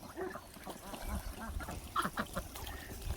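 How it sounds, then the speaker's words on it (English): Ducks at a small backyard pond give scattered quacks and honks close by, mixed with splashing and busy background noise. "The ducks love their pond."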